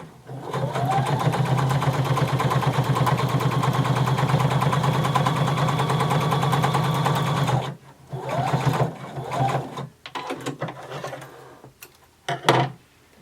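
Sewing machine stitching denim close to a pressed fold, a fast steady mechanical chatter running loud for several seconds, then stopping and restarting in short bursts.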